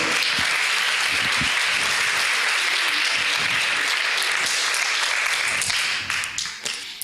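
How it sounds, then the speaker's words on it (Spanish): A church congregation applauding during a sermon, dense continuous clapping that fills the room at full strength before tapering off in the last second. "Denle un aplauso al Señor."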